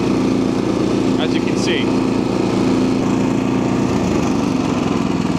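A Honda HSS1332 ATD snowblower engine runs steadily while clearing deep snow, its loud continuous drone persisting beneath a voice that speaks briefly, with the pitch dropping slightly near the end.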